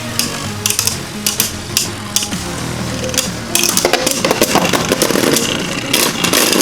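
Beyblade tops Revive Phoenix and VISE Leopard clash in a stadium with sharp rapid clacks and collisions over a whirring spin, growing busier and more frantic toward the end.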